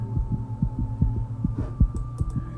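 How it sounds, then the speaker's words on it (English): A heartbeat sound effect in a video game pulses in steady, rapid double thumps over a low hum, close and prominent, with a few faint higher blips late on and no talking. "the heartbeat sound is really sort of ramps up the tension"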